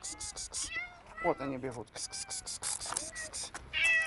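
A group of cats crowd around someone walking among them, letting out several clear, close meows, while a person talks briefly in between.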